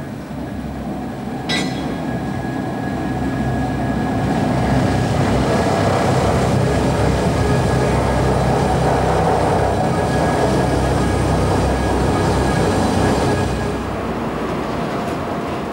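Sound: Maglev magnetic levitation train passing at Emsland

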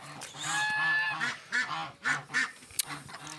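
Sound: ducks on a farm

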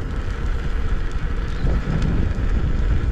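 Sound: wind

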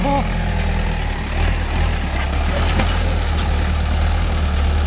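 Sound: car engine idling

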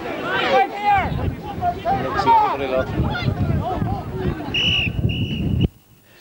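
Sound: referee blowing the final whistle at Gaelic football match

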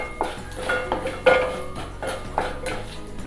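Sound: stirring hing and turmeric in a pan for misal

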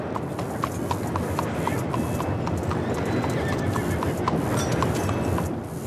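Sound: horse in the video game Red Dead Redemption 2

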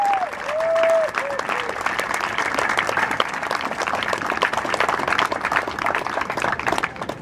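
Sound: applause at hunger strike solidarity rally

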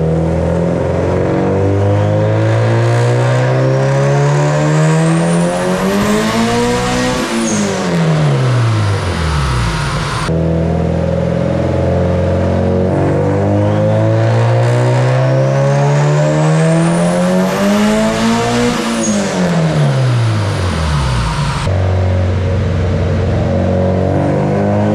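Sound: turbocharged Honda D16Y8 engine revving on a dyno

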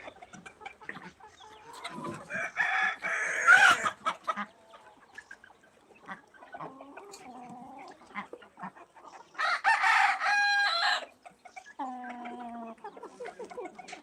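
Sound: chickens clucking

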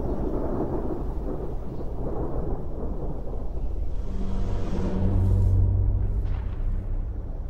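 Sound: thunderstorm

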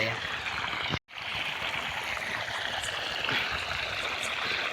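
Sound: irrigation water flowing from a small pump motor

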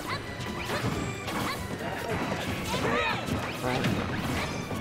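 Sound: forward smash hit in Super Smash Bros. video game

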